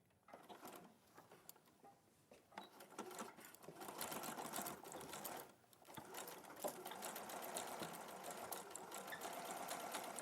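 Sewing machine stitching across gathered fabric, running in close bursts of rapid needle chatter with short pauses between runs, fairly quiet overall.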